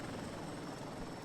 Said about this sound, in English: just maneuvering the helicopter here